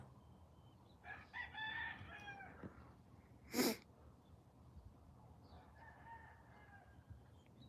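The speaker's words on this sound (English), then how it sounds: "I guarantee you that's why the roosters are crowing, because that fucking hawk is around." Roosters crow at a distance, two drawn-out calls several seconds apart over faint outdoor background, with one short sharp burst between them.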